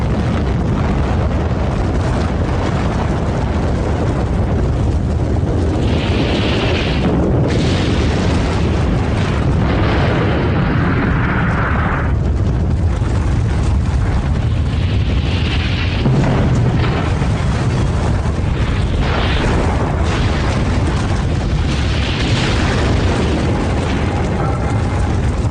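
A loud, sustained explosion from a dramatized film scene, with dense rumbling blasts and bursts that roll on continuously for many seconds.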